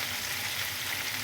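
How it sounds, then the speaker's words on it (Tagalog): Caldereta ingredients with garlic, onion and chili sautéing in a pan, a steady, faint hiss of frying oil without pause, close by and alone. "Gisa-gisa muna natin siya ng konti."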